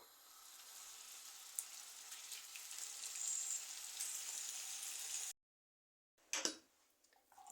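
Marinated pork ribs sizzle and spatter loudly in a hot pan, a dense, steady crackle heard up close that cuts out completely for about a second, then returns in a brief burst.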